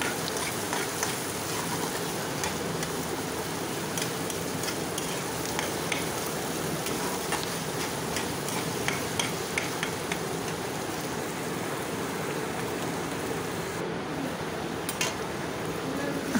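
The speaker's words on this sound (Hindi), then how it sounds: "कूटा हुआ अदरक लहसुन, अब इसे हम डालकर अच्छे से ब्राउन होने तक भून लेंगे।" Crushed ginger and garlic frying until brown for chana dal tadka give a continuous, even, rain-like sizzle with tiny crackles that runs steadily throughout, close and fairly loud, with no talk.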